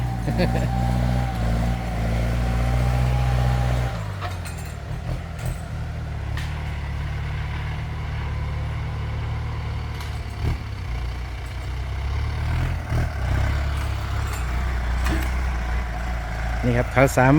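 A Kubota M9808 tractor plowing in a narrow forest plot, its engine a loud, steady low drone that shifts pitch early on and keeps rumbling throughout, with a voice talking over it.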